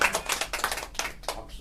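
A small audience at a living trust lecture claps in sharp, closely spaced bursts that sound near and fairly loud, with no talk over them.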